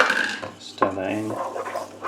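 A spoon scrapes and clinks against a dish while stirring parsley and Dijon mustard into a fish pie sauce, with short close rasping strokes and a sharp knock partway through.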